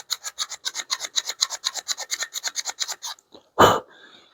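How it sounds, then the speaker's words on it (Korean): Sandpaper wrapped on a thin wooden board rubbed against part of a Japanese hand plane, about twenty quick rhythmic rasping strokes close up, then a short pause and one sharp knock or bump. "이런 얇은 판재를 가지고 사포를 이용해서 이 부분을 부드럽게 만들어 주는 거예요"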